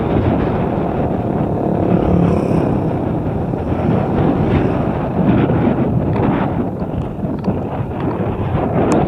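Steady wind buffets the microphone of a motorcycle rider on the road with a constant low roar, loud and unbroken throughout.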